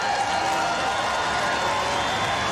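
Crowd applause at an Australian Open tennis match, greeting the world number one's match point against Bronzetti; a steady, dense wash of clapping and cheering that runs unbroken and fairly loud throughout.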